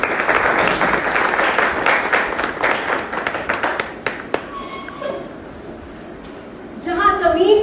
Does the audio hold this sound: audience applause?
yes